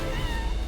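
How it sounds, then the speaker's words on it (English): A kitten meows once in Final Fantasy VII Rebirth, a short, fairly loud cry over a low game background. "Kittens?"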